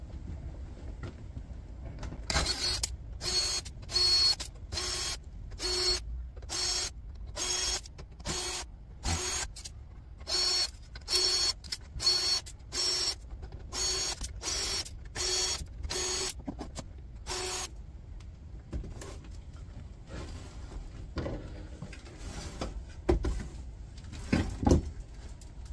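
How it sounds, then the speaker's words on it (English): Rapid bursts of a powered screwdriver backing screws out of a Systor 1-to-7 CD burner tower, about twenty short whirring pulses in steady rhythm, close and fairly loud, followed by quieter handling clatter. "a lot of screws to get them out, but we'll just go ahead and start removing them"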